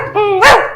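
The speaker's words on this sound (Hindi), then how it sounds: "कहकर दुखी से भौंकने लगी।" A single loud, close dog bark, a short rising whine that breaks into a harsh bark and then fades quickly.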